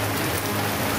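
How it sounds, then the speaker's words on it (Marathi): Heavy rain pours down over a city, a dense, steady hiss of falling drops with no pauses and no voices. "नाशिक शहरात जोरदार पाऊस झाला"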